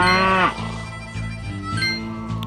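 Cartoon cow in an elephant puzzle video game gives a loud, drawn-out moo, followed by a thud and a sequence of short, bouncing game tones as the cow falls.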